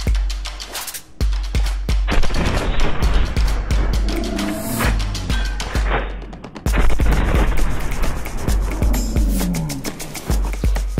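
A pump-action shotgun fires over and over in Red Dead Redemption 2 Online, loud and close. Repeated heavy blasts hit at irregular intervals, with short pauses and bursts of action between shots.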